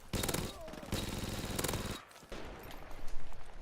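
M16 rifle fire in Call of Duty comes as loud bursts of rapid shots, broken by a brief lull. A second, quieter stretch of shots follows, with busy game noise around them.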